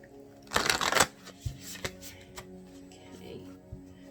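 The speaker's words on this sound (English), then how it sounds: "I'm going to shuffle and I'm going to pick a couple of cards that'll be the overarching energy of your reading" An oracle card deck being shuffled by hand up close, with a dense riffling burst followed by several softer card taps and slides.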